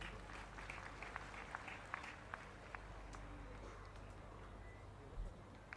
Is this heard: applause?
yes